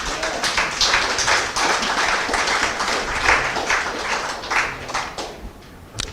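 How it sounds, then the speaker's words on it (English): An audience at a trade show applauds, a moderately loud burst of many overlapping claps that holds steady and then thins out toward the end. "And a big round of applause for Mr. Lee, everyone."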